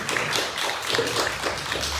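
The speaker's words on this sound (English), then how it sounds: "Please give a round of applause to Christina." Audience clapping for a local city council member at a community coalition gathering, moderate applause with distinct individual claps popping through for a couple of seconds.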